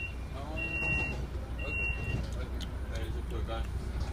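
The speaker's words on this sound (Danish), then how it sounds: "Det er derfor, der er det der åndssvagt bip." Two short, high electronic beeps sound aboard a passenger train, about a second apart, over steady low carriage rumble with faint voices in the background.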